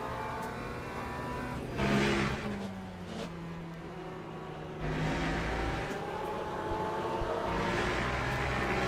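The engine of a Porsche race car in the Le Mans Ultimate racing sim revs and surges, rising and easing between gear changes with a steady mechanical drone throughout and no speech.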